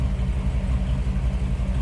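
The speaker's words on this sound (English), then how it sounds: "Nice rumble coming out of that 350." A 1957 Chevrolet Bel Air convertible with a 350 V8 idles with a steady, deep rumble. The low, even throb holds close and constant throughout, with no voices.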